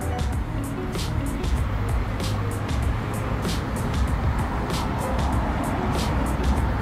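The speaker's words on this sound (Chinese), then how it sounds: "车来车往" Steady, continuous traffic on a busy city street in Hengyang, Hunan, with cars and trucks passing in a constant rumble, close and fairly loud throughout with no break.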